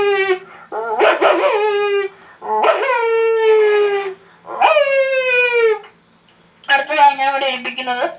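A person imitates a dog, producing four separate howling, whimpering vocal bursts with barking yips, close and loud, each call sliding downward in pitch with short pauses between.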